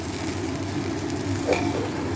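Rice fries for Basanti pulao in a pressure cooker, giving a steady close sizzle with a brief stirring scrape partway through and no voices.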